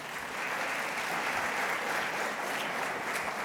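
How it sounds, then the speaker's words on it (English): Sustained applause from a conference audience at an opening ceremony, welcoming the minister from the Gambia, an even, moderately loud clatter of many hands with no voices on top. "Vous pouvez l'applaudir."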